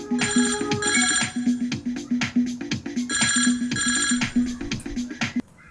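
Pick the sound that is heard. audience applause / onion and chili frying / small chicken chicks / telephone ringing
telephone ringing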